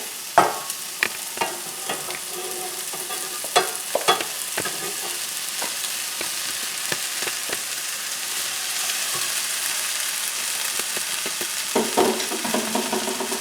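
Quinoa stir fry sizzling in a pan, a close steady frying hiss with sharp spatula clicks and scrapes, busier at the start and end and calmer in between.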